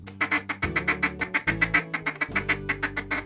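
A rapid run of short, clipped chuckles from a duck call imitating a feeding duck, repeated in a steady quick rhythm close to the microphone.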